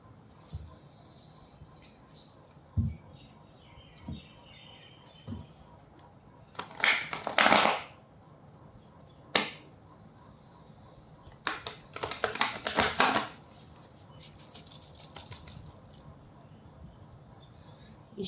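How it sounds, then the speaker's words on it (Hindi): A deck of cards shuffled in two short bursts of riffling rustle, with scattered soft taps and handling clicks between them, close and fairly quiet over a faint background hiss. "This is my one and last shuffle."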